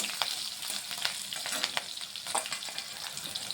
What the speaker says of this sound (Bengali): ভালোভাবে একটু মশলাটা ভেজে নিচ্ছি।